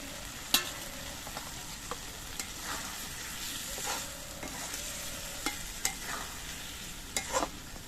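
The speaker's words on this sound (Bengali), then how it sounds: "এবার এর মধ্যে আমি ভিজে রাখা পটলগুলো দিয়ে দিচ্ছি" Soaked pointed gourd is stirred into cooked mung lentils in a pan, with soft scraping strokes and occasional clinks over a faint, constant sizzle.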